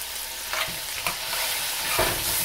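Garlic, olives and bacon sizzle in a pot while being stirred, a continuous close frying hiss broken by a few scraping spoon strokes, with no one talking.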